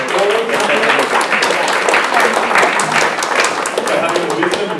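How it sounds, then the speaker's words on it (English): A room full of people applauding loudly at an awards night, dense clapping sustained for several seconds with a murmur of voices mixed in. "Giving ourselves a round of applause."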